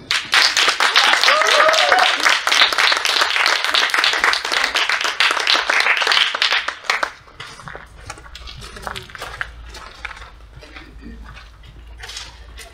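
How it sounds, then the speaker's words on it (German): Audience applause at a youth poetry slam festival on stage: dense, loud clapping for about seven seconds, then thinning to scattered, fading claps as the room settles. "Klatscht bitte ans Mikrofon."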